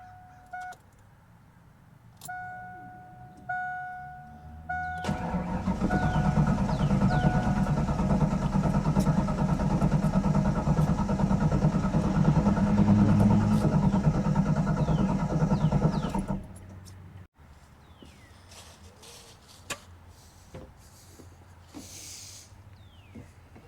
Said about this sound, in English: we're gonna try to get this thing started and just see what it does